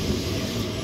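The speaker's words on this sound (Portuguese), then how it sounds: "Olha o elétrico aí passando." An electric tram in Portugal rolling along its rails, a continuous dense rumble of wheels on track, close and steady through the whole short stretch, with no talking.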